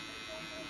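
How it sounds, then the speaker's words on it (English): A Gamma Rebel hair clipper, blade fully closed, buzzing steadily and faintly during a burst fade haircut, a continuous electric hum with no break. "I got the clipper all the way closed, and I'm just moving the lever up and down."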